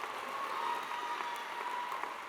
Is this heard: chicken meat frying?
no